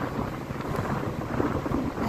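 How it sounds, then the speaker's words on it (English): Strong wind buffets a handheld microphone outdoors at a monument, producing a continuous loud, rough rumbling roar that never lets up, with no voices. "The wind is so strong it's blowing my hand, holding my rig."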